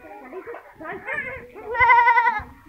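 A goat bleats several times in wavering, nasal cries, the last one loudest and most drawn out, with some rustling and scuffling beneath.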